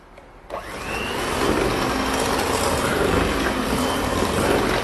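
An electric hand mixer whirs loudly and steadily as it beats egg yolks, a whole egg and sugar together for green tea pukis batter, starting up after a brief quiet moment and running on without pause.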